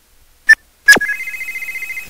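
A phone rings in an old-school MMO game: two short bursts of ringing, then a steady repeating electronic ring that carries on loud and close to the end, with nobody speaking.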